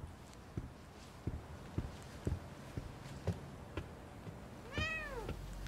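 A cat in the video game The Medium gives one clear rising-and-falling meow near the end, preceded by a series of soft, evenly spaced footsteps in a quiet interior.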